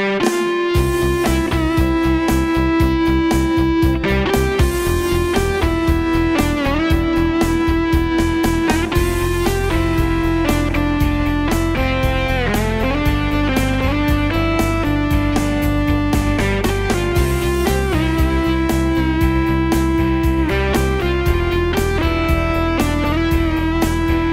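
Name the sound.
digital keyboard factory tones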